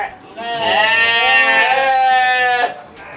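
Local sheep bleating loudly and close, one long wavering bleat lasting about two seconds in a livestock pen, with faint background noise before and after.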